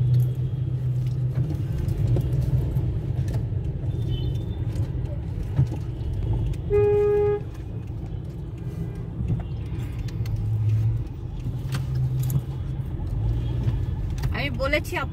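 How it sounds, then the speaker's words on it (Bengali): Night road traffic with rickshaws, vans, motorbikes and bicycles, a continuous close engine rumble and passing vehicles, with a brief horn toot, heard from a moving motorbike. "দেখেন আপনি সব রিক্সা, ভ্যান, হুন্ডা, সাইকেল সব চলতেছে"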